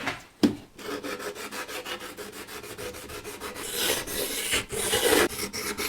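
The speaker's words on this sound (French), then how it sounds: "Je vais poncer pour vraiment avoir en haut un suivi de ma ligne." Sandpaper rubs back and forth along the edge of a board freshly cut with a jigsaw, making rapid, close, rhythmic rasping strokes with a short pause near the start.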